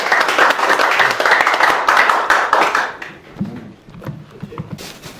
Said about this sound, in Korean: 강의해 주신 박사님께 다시 한번 감사의 박수 올려드리겠습니다